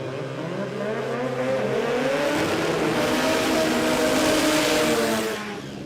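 A Mazda RX-7 drag race car at a Sydney drag racing meet runs with a loud, rising engine howl building over several seconds, then easing off at the end; heard fairly close.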